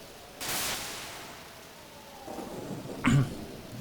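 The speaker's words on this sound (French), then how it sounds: "Une nuit de pluie orageuse." Stormy night rain in Pokémon Mystery Dungeon: Explorers of Sky, a soft steady hiss of rainfall with a bright crack early on and a deeper thunder rumble swelling near the end.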